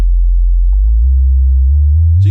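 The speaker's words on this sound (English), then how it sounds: "I'm playing a sine wave right now, which is just, of course, one frequency, no harmonic content" A pure sine wave from an Ableton Operator synth holds as one steady, low, clean tone with no overtones, sounding alone for the whole stretch.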